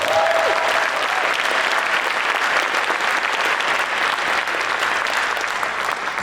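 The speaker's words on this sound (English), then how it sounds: "I think that deserves a round of applause." Audience applause at a keynote presentation, a steady wash of clapping from a crowd that holds evenly for several seconds with no voices on top.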